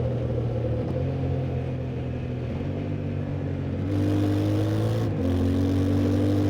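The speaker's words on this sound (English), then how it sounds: "that's the Yamaha quick shifter on the 2025 Tenere 700" A 2025 Yamaha Tenere 700 motorcycle being ridden, its engine droning steadily with several quick, clutchless quickshifter gear changes that step the pitch down and then back up, heard from onboard over wind rumble.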